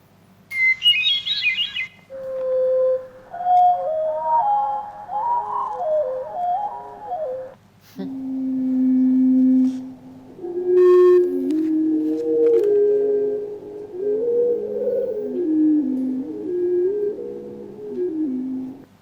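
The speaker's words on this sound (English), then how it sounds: "I've been studying hermit thrush song" Hermit thrush song played back: a series of clear, flute-like whistled phrases, each starting on a held note and rising into ringing trills, separated by short pauses, loud and alone without talking.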